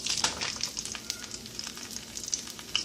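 Fish fries in leftover butter in a pot on a stovetop, a loud, close, continuous sizzle with bursts of spitting and popping throughout.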